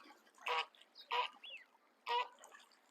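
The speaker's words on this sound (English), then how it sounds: "I think these are ducks. Some kind of duck." Ducks at a farm in Japan give three loud, nasal honking quacks in an uneven rhythm, close by, with fainter calls and a soft background in between.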